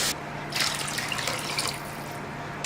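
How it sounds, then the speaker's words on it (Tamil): Water poured from a quarter-litre cup into a cooking pot for two packets of vegetable Maggi noodles, a steady splashing gush with a brief pause and a second pour starting at the end, close and clear with no talking. "2 பேக்கெட் மேகிக்கு நான் 1/2 லிட்டர் தண்ணி வச்சுக்கிறேன். இது 1/4 லிட்டர் கப். நான் 2 கப் ஊற்றிக்கிறேன்."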